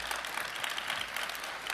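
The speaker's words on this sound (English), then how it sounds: "Another round of applause for him, please." A crowd applauding steadily at the CPAC 2015 political conference, a dense wash of clapping at moderate level throughout, with no voices.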